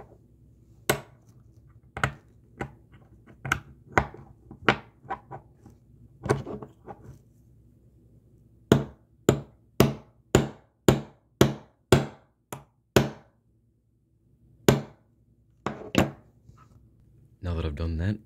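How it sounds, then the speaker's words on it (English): Sharp metallic hammer strikes on a steel Allen wrench, nearby and loud, first in an irregular string, then a quick steady run of about a dozen blows, then a few more. "And then we're going to beat it with a hammer."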